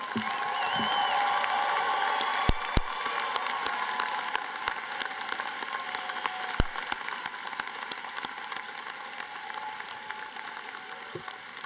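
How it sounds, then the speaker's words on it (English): A large crowd applauds law school graduates at a university commencement ceremony, producing sustained clapping with a few louder claps and faint cheers, gradually thinning toward the end. "Can we give a round of applause for all of our graduates?"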